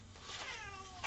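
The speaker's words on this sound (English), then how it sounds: "So if you hear my cat in the background," An older pet cat meows indoors in the background of a home painting session: a short, fairly faint drawn-out meow rising over a low room hum, with a brief louder bump near the end.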